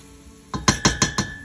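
A spoon stirs ingredients into a pot of cheesy potato soup, giving five sharp, evenly spaced metallic clinks close by after a brief quiet start, with no talking.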